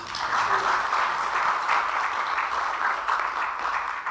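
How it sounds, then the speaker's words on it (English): An audience claps for a guest at the opening session of a regional learning event, a full sustained round of applause at a steady level from start to finish. "Let's give him a clap, please."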